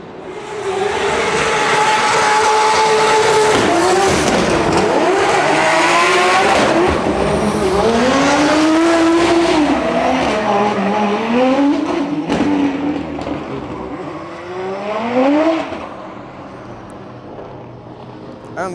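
A drift car runs during Drift Masters practice in Riga, its engine loud and close, rising and falling through repeated revs for most of the run before easing off.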